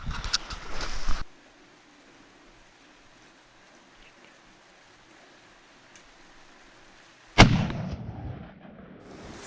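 A single loud rifle shot rings out while deer hunting in New Zealand, a sharp crack with a trailing echo that breaks a long quiet outdoor stretch after an earlier burst of noise.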